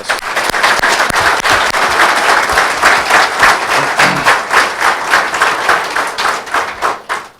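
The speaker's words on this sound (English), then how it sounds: "I want to give you all a big round of applause" A crowd applauds at a sheriff's office promotions ceremony, loud dense clapping that holds steady and then thins into a few rhythmic bursts near the end.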